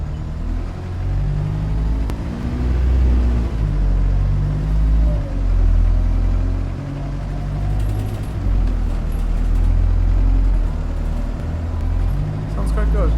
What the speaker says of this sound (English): So you can hear the engine and the transmission as well.